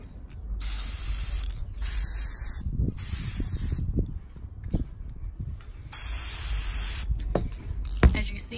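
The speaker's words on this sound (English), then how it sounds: "So now we're gonna spray the glass and we're gonna seal it" Gloss spray paint hissing from an aerosol can onto a wine glass in several separate bursts, each about a second long, with soft handling clicks and rattles between them; close, no talk.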